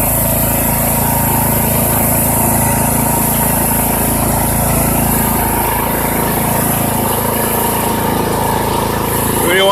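Poulan Pro PP175G42 riding tractor engine running steadily and loudly up close, a continuous droning hum that holds level throughout before shifting briefly at the very end.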